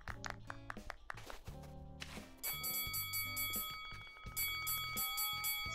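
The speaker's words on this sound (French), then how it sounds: "C'est une sonnette un petit peu particulière," An unusual doorbell in the video game Animal Crossing New Horizons rings as a bright chiming melody of clock-like bell tones, repeating in short bursts after a stretch of plucked musical notes.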